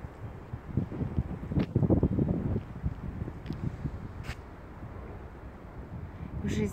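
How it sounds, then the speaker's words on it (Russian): Blustery winter wind in Murmansk roars and buffets the microphone in uneven gusts, with faint rustling and a few scattered knocks, no one speaking. "Это такой сильный ветер."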